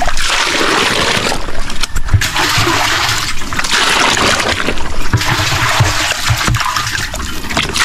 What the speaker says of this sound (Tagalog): Dagdagan ko ito ng tubig kasi malakas magtubig ng baboy natin.